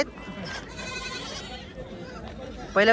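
Goats bleating at a weekly village goat market in Kalamnuri, Hingoli, a loud close bleat rising clearly near the end over a busy background of crowd chatter and murmur.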